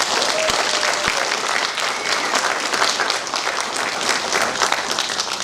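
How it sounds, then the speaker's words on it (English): Sustained applause from an audience at a fire recruit school graduation ceremony, a dense steady wash of clapping that fills the whole stretch with no break. "Let's give them one more round of applause, ladies and gentlemen."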